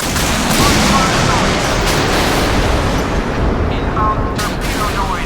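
Inbound torpedo in the naval combat game Modern Warships, a loud steady rushing roar with rumbling booms underneath, continuous throughout with a voice briefly heard near the end.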